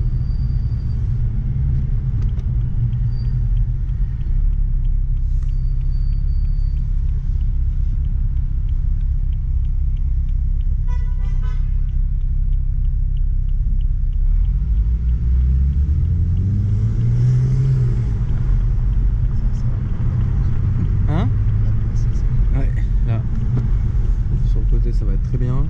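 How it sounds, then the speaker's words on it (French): A deep, steady engine rumble from a BMW Alpina B4 runs throughout, swelling slightly in the middle, with voices talking faintly over it. "ce que j'aime aussi, c'est le bruit sourd de la voiture"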